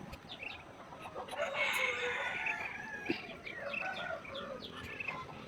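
A rooster crows loudly nearby amid other clucking chickens and faint chirps, with a busy outdoor backdrop.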